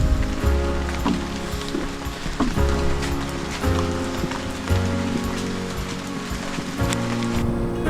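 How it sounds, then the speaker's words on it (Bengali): Rain pattering steadily on a forest trekking trail in the hills of Bandarban, a close, even wash of drops with harder splats and faint low thumps throughout, no voices. "হঠাৎ ট্রেলে বৃষ্টি শুরু হয়েছে"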